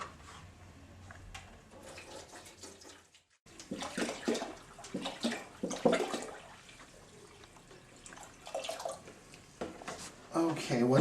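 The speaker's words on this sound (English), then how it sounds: "And then we're going to add our 2 gallons of water." Water splashes and gurgles as it is poured into a margarita machine's tank in uneven bursts, fairly quiet and close.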